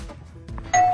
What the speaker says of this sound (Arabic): مين اللي رن الجرس؟